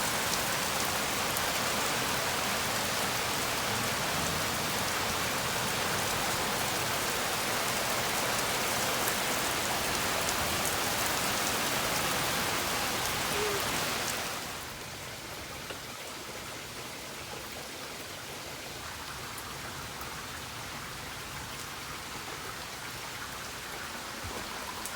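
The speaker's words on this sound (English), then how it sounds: "we're going to show everyone a little bit of the rain that we had coming down last night." Heavy nighttime rain falls in a thick, continuous roar, loud at first and then dropping to a softer but still steady downpour about halfway through.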